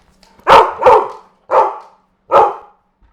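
A female Labrador named Henry barks four times in close succession, loud and near, with a quick double bark followed by two spaced single barks in an otherwise quiet room.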